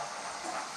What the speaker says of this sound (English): He was already chuffing into the darkness.